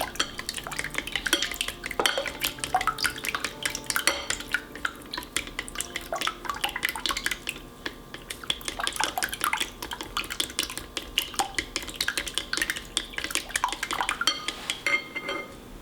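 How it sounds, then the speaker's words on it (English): A whisk or spoon clinking steadily against a bowl while beaten egg, milk and sugar are mixed, a quick continuous tapping and scraping up close with no talk. "So just take your time, thoroughly mix it, and just enjoy some like a little chill mixing session."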